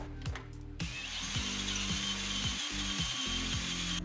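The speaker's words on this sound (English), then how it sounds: "you will need to drill the spindles and pitman arm to accommodate a 3/4 inch bolt" A power drill with a step bit bores through Jeep JK steering spindles and a pitman arm to fit a 3/4 inch bolt, giving a steady, continuous whirring grind with a faint metallic hiss and no talking.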